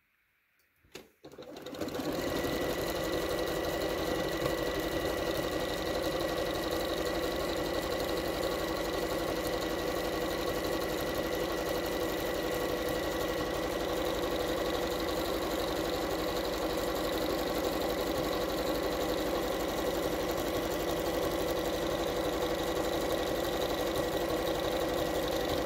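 A domestic sewing machine runs zigzag stitching along the edge of a cushion cover, starting after a brief click and humming loud and steady at a fast, even rhythm for over twenty seconds.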